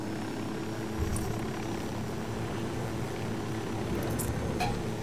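A helicopter sets down in the video game Ghost Recon Wildlands, its steady rotor and engine roar filling the whole stretch at an even, fairly loud level with no talking over it.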